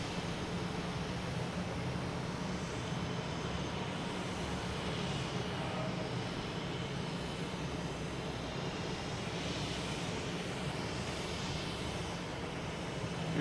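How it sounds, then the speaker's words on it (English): A United Airlines Airbus A321neo jet arriving at Boston Logan from Denver on a low approach gives a steady, loud, broadband roar that stays even throughout, with no talking. "United Airlines coming in from Denver,"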